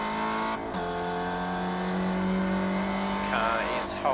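A Spec Racer Ford in iRacing at Oran Park Raceway squeals its tires through a corner, a sustained high whine over the steady engine drone, with a commentator talking over the top.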